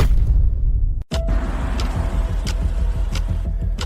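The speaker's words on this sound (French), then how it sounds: "Je vais d'abord garer la voiture." A car in a dramatic TV series scene gives a steady engine and road rumble, broken by a brief cut, then rolls on with the same continuous motor noise and no speech.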